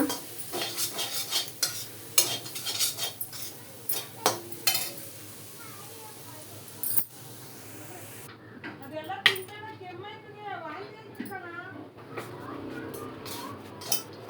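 A spoon scrapes and stirs a ragi and sweet potato puttu mixed with powdered sugar in a hot pan, with rapid clinking strokes at first, then a faint sizzle as a person talks.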